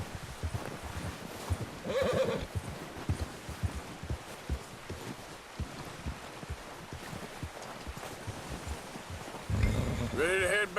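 A horse in the Red Dead Redemption 2 game plods along with irregular clopping hooves, snorting and whinnying in two loud bursts, while someone talks over it.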